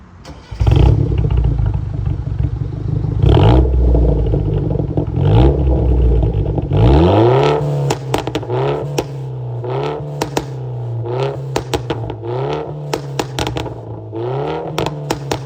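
A loud engine starts up with a rough roar, then settles into a steady idle punctuated by repeated sharp revs and clattering bursts.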